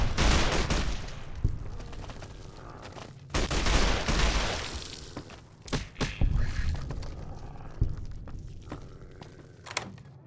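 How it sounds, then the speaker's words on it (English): Bursts of suppressing gunfire in the video game Fallout New Vegas: loud clusters of rapid shots with sharp thuds, then scattered single cracks and impacts trailing off in a quieter stretch. "Suppressing fire."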